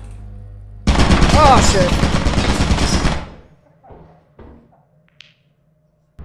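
A Lethal Company turret opens fire in a loud, sustained automatic burst lasting a couple of seconds, then cuts off into quieter scattered clanks, with a brief exclamation from a player.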